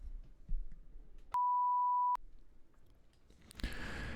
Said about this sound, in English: After the beep, please record your question.